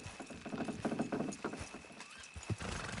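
Horses clop along in Red Dead Redemption 2 with a quick run of hoof beats, and a neigh or whinny breaks in partway through. The whole scene is quiet and slightly distant, with a faint high tone held in the background.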